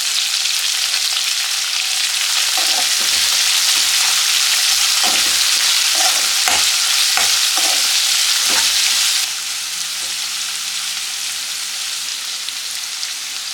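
Onions, green chillies and curry leaves frying in a pan for tomato rice, a steady close sizzle with a few clicks of stirring, the hiss dropping a little toward the end.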